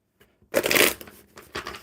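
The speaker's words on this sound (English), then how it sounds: "All right, one more good shuffle." A single quick riffle of playing cards, close and crisp, followed by a couple of soft taps as the deck is squared.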